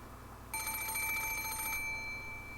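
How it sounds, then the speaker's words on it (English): An antique telephone in the visual novel Umineko rings with a bright, piercing metallic bell trill, one sustained burst of just over a second over a low steady background hum, then stops. "suddenly the piercing sound of a phone rang through the room"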